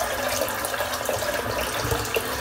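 A tap runs steadily into a sink during a wet shave with lather, a constant close splashing stream with no talking over it.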